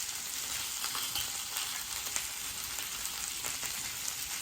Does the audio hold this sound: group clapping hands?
no